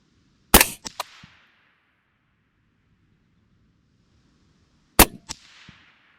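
Two sharp, loud AR rifle shots crack out at an outdoor shooting range several seconds apart, each followed by a quick metallic clang and a fading echo, with quiet wind between them.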